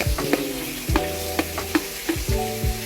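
Carrots tossed into mushrooms frying in a pan for chicken a la king, with a steady sizzle and repeated clacks and scrapes of stirring close by.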